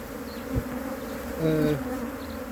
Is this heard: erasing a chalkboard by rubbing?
no